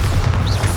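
A Bombarda blast spell from the Hogwarts Legacy video game lands as a short, loud, low boom with a rumbling body, heard close and alone.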